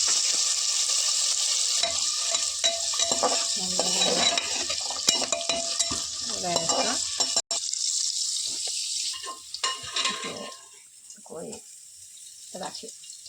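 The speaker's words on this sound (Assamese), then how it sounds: "প্ৰথমতে গাজৰ আৰু যোনখিনি ভাজি লওঁ ভালদৰে।" Sizzling and scraping from a pan as carrots are fried and stirred, joined by running water; a voice talks over it before the sizzle fades quieter.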